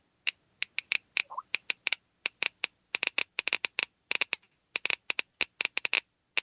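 Rapid, irregular Geiger counter clicks from a piece of uranium glass, about 500 counts per minute, sharp close ticks arriving in uneven bursts and clusters with no voice over them.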